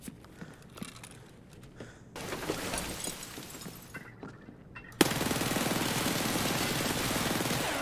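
Gunfire crackles in the Escape from Tarkov video game, starting with scattered shots and clatter, then building into dense, loud sustained bursts that fill the last few seconds.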